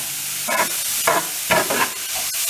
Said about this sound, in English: Just cooking the carrots very, very lightly, just so that they get coated with the oil and the mustard seeds.